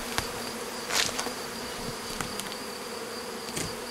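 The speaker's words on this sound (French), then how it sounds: "donc je vais remettre ça aux abeilles." Honeybees buzz steadily around a wooden nest box intended for hornets, a constant close hum with a few louder passes as individual insects fly near.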